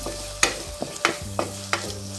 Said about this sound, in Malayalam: നന്നായി ഒന്ന് വഴറ്റിയെടുക്കാം.